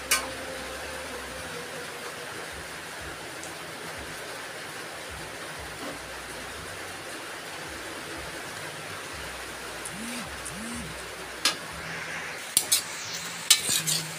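Pancit noodles stirred in a pan over a steady close sizzle, with soft scraping of the utensil throughout and a few sharper metallic clinks near the end, without any talk.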